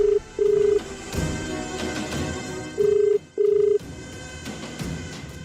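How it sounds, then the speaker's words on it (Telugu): A telephone ringback tone from a call placed home on a Telugu TV serial: two double-ring bursts of a steady low electronic tone, spaced a couple of seconds apart, over quiet background ambience. "ఇంటికి ఒకసారి ఫోన్ చేయాలి. ఒక కాల్ చేసుకోవచ్చా?"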